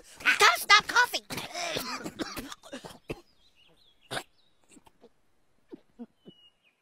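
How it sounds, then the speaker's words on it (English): Several short, raspy coughs break out after a stretch of hurried whispering and talk, sounding close and isolated against near silence. "Gotta stop coughing."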